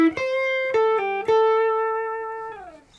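An electric guitar plays a short minor pentatonic pattern 2 lick, a few sustained, distorted notes bending and sliding between pitches before fading out, played alone.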